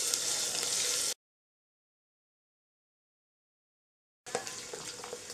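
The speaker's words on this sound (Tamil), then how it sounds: "ஸோ கொஞ்சம் அதிக நேரம் நம்ம வதக்கி எடுத்துக்கணும்." Ginger garlic paste sautés in a pressure cooker for vegetable biryani, giving a close, steady sizzling hiss that cuts out into silence for a few seconds and then resumes.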